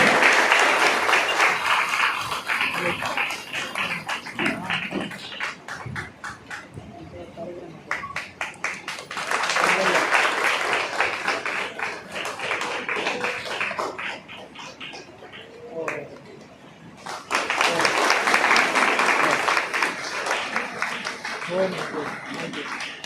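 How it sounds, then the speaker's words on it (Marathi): A music academy anniversary audience applauds an award recipient in three long waves of loud, dense clapping, with a voice speaking over the gaps between them. "जोरदार टाळ्या"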